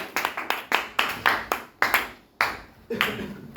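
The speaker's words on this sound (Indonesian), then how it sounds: "Tepuk tangan" A classroom in Indonesia gives scattered applause at the end of a student presentation on virus structure, with a few people clapping in uneven bursts, close and moderately loud, tapering off after a few seconds.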